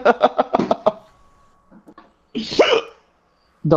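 A person hiccups amid laughter while playing Destiny's Trials of Osiris, with sharp, abrupt vocal bursts and chuckling heard close up between quieter gaps.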